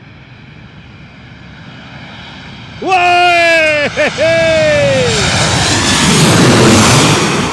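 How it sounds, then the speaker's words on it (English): Boeing jet airliner passing overhead, a loud engine roar swelling suddenly with a strong descending whine and a brief dip, then a broad rushing roar; a man exclaims once as it goes by. "Now it's time to hear a Boeing."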